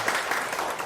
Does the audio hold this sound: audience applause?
yes